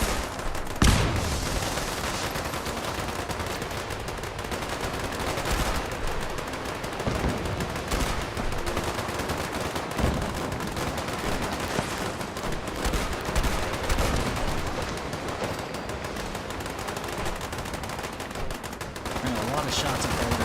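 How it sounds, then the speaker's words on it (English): Dense, continuous gunfire in a Fallout game, many overlapping shots and rapid bursts forming a steady roar of combat throughout, with occasional sharper, nearer cracks standing out. "There are a lot of shots up there."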